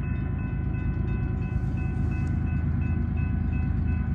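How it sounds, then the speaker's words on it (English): A train rolls steadily past a railfan's spot, a continuous loud low rumble of wheels and cars with a faint tonal hum above it, no voices heard. "we got another train coming right there"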